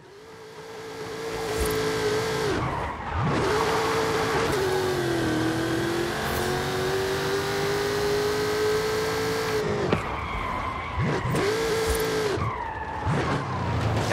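Car engine revving in Forza Horizon 5, a loud sustained engine roar that rises and falls with gear changes and brief drops, accompanied by tire noise.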